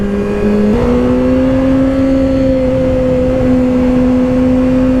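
A 2024 Kawasaki ZX-6R 636 sport motorcycle on its stock exhaust hums steadily at idle, then steps up slightly in pitch and holds a smooth, droning exhaust note close by.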